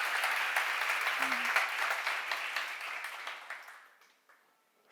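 A church congregation claps in a full burst of applause that stays loud for a few seconds, then thins out and dies away into near silence at the end.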